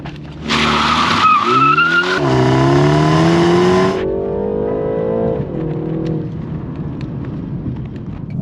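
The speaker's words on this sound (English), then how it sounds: "Wheel spin and the way the car slides, oh boy, it's exhilarating." Tires shriek in a harsh, sustained squeal as a 2022 BMW 330i M Sport engine revs hard with wheel spin and climbs in pitch, then the screech stops and the engine pulls away steadily.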